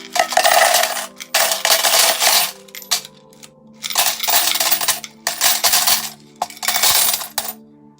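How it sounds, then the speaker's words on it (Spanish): Coins tumble into an offering box in repeated bursts, bright metallic clinking and jingling piling up in several loud close clusters separated by brief pauses. "cuando las monedas iban cayendo, al ser depositadas en la parte baja, hacían un ruido peculiar"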